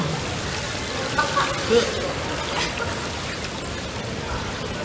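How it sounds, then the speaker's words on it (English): A waterfall feature at the pool on the Royal Caribbean cruise ship Quantum of the Seas splashes as a steady, full wash of falling water, with a couple of brief louder splashes near the middle. "let's go to the waterfall"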